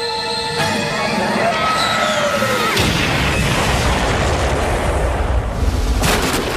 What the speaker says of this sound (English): Bet you can't remember the last time you saw an explosion of all things on My Little Pony.